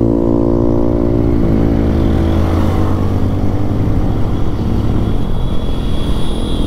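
A TVS Apache RTR 160 motorcycle rides along, its engine droning loud and close with a steady, gradually shifting pitch as it cruises, accompanied by road and wind rush.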